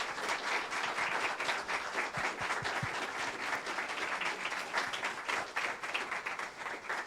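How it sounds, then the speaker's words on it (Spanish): A lecture audience gives a doctor a strong round of applause after her introduction at a physics and mathematics school, a continuous wash of many hands clapping at moderate distance, with no speech over it. "Le damos un fuerte aplauso a la doctora."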